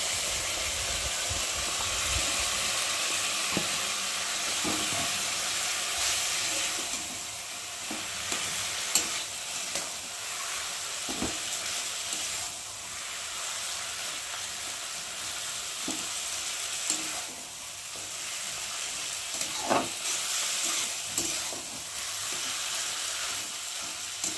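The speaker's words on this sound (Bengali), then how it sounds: "ভালো করে নাড়াচাড়া করে আলুগুলো মিশে দিচ্ছি, আলুগুলোকে মধ্যে ঢেলে দেবো।" Potatoes being stirred and mixed in a hot pan, a continuous sizzle and hiss with repeated scraping knocks of a spoon at an irregular pace.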